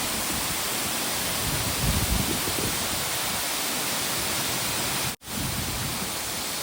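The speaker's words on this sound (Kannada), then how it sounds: "ನೋಡಿ ನೀರು ಹೇಗೆ ಬೀಳ್ತಿದೆ, ಸೂಪರಾಗಿದೆ ಮಾತ್ರ. ನೀರು ಸಖತ್ತಾಗಿ ಬೀಳ್ತಾ ಇದೆ." Sirimane waterfall in the monsoon pours down with a dense, unbroken roar of rushing water that fills the whole scene, loud and close, with one brief dropout.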